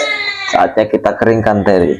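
Infant crying in wails and sobbing bursts right after a morning wet-cloth bath, close and loud, with an adult voice talking over and between the cries.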